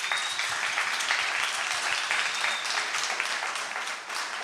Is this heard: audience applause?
yes